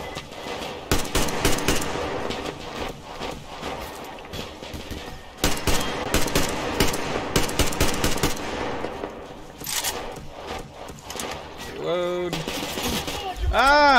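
Rapid bursts of gunfire in the video game Metro Exodus, loud and dense over a busy game soundscape, with a voice talking in places.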